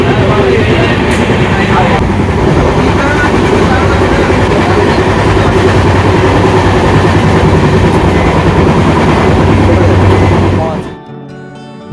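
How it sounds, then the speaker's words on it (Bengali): The Mumbai Mail passenger train runs on rails from Kolkata toward Dhanbad, a loud, steady rumble and clatter heard from on board that continues for about ten seconds before dropping away abruptly. "বেশ কিছু সময় আগে আমাদের ট্রেন ছেড়ে দিয়েছে"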